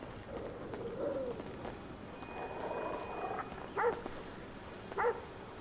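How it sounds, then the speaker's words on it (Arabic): Dogs in a GTA RP game setting give a couple of short, fairly close barks with a whimpering tone near the end, over steady low background noise. "شو عندك كلاب لهنا ولا شنو؟"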